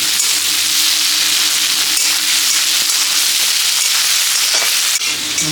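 Onion and tomato for a crab curry sizzle steadily in a hot pan, a close, continuous frying hiss with no talking.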